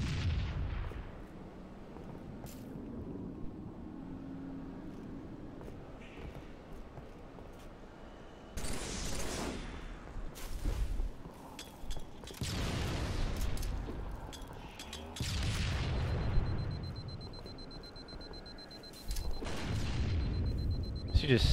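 Grenade blasts and bursts of gunfire in a Halo 3 one-on-one match, several loud booming explosions spaced a few seconds apart with rattling shots between, and a voice talking in the gaps.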